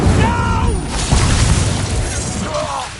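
An Incendio fire spell cast in Hogwarts Legacy bursts with a loud booming whoosh, layered with game effects and a shouted voice over the blast.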